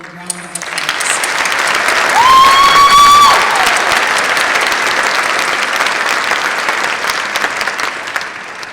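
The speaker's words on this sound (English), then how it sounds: "Will the audience please join me in giving them another round of applause?" Graduation ceremony audience giving a sustained round of applause, dense even clapping from a large crowd with a brief cheer or whistle rising in the middle.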